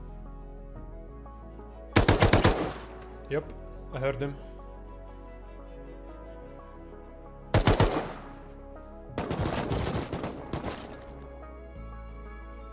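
AK rifle fire in the survival game Rust: a few loud, sharp automatic bursts separated by quiet gaps, with a voice talking in between.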